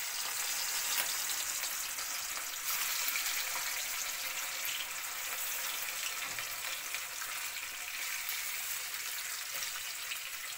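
Pieces of fish sizzling in hot oil in a pan, a steady bright hiss that holds evenly throughout, close and with no speech.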